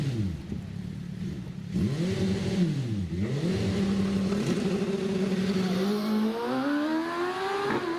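An Empire Evo 2 race car accelerates at the Prescott hill climb. The engine revs rise and dip through several quick gear changes, then climb steadily to a high, strained note, loud and close.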